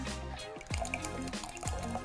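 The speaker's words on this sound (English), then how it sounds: "now we're gonna pour the contents into our glasses" A leftover cranberry sauce cocktail pours into glasses, with two distinct splashing pours and a steady liquid trickle between them, close and fairly loud.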